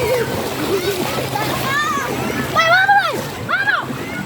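Water splashes and sloshes nearby as people jump from a bridge into deep floodwater, while children shout and chatter excitedly over the flowing stream.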